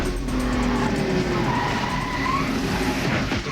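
Race cars at the 2001 Daytona 500 skid in a multi-car crash, with tires squealing steadily over a loud, continuous roar of engines and crowd noise.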